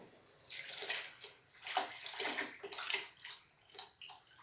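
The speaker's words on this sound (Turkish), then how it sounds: "Şimdi sütünü ilave edeceğim" Village milk pours steadily into a pot of cooked rice for sütlaç rice pudding, a continuous close splashing, trickling stream that swells and eases in waves, with no talking.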